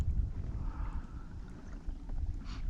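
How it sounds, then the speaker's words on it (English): Wind gusts across a lake shoreline at a wilderness campsite near a boat landing, with low rumbling buffeting against the microphone and faint airy hiss, steady and unbroken with no voices. "it is getting windy."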